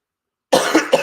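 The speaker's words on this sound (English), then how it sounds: "Even with a fucking dry cough," A dry cough from a man, a short burst of three quick, rough coughs close to the mic after a moment of silence.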